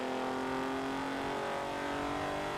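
A retro Alfa Romeo with a V6 engine in Forza Horizon 4, chugging along at a steady drone with no talk over it.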